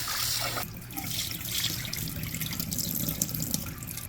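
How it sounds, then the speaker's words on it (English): Running tap water rinsing liver in a sink with vinegar, a steady close splashing and trickling wash that continues throughout with no talk. "Don't forget to wash your meat and use your lemon or vinegar to wash it."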